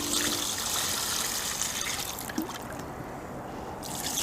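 Water trickles and splashes into the container of an outdoor base camp washing system, a soft steady pouring close by that thins and pauses toward the end.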